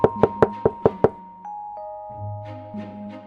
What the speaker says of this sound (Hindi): एक साधु आया और ढोलू के घर का दरवाजा खटखटाया।